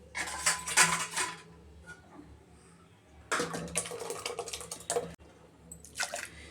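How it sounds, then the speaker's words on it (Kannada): Thick ground chili paste is poured and scraped into a metal pot of cooked tomatoes and leftover water, with two bursts of wet clattering and dripping separated by a quiet pause. "ಇವಾಗ ಟೊಮೊಟೊ ಬೇಯಿಸ್ಕೊಂಡಿದ್ವಲ್ಲ ಆ ಪಾತ್ರೆಗೆ ಹಾಕ್ತಾಯಿದ್ದೀನಿ"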